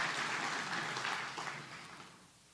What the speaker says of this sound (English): One more round of applause for all of our sponsors